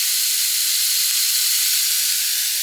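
A sausage patty frying in a pan, giving a loud, steady, close hissing sizzle without pause.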